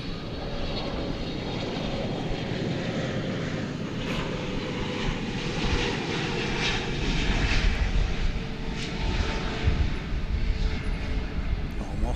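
A DHL cargo aircraft at DFW Airport rumbles steadily as it passes, a broad engine roar that grows slightly louder midway and holds on without pause.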